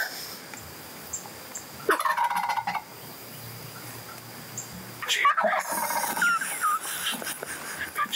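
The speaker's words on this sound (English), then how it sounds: "And he must have gobbled 150, 200 times minimum." A wild turkey gobbler gobbles outdoors in two loud bursts a few seconds apart, the second rattling longer, with faint birdsong and quiet rustling between them.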